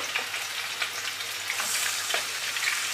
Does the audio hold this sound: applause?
no